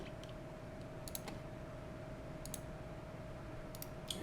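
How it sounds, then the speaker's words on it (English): Sharp computer mouse clicks at a desk while working through software menus, a few separated single and double clicks over a steady hum of background noise. "I'm going to go to the next one, right click."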